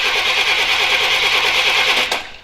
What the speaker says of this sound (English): Crank it a little.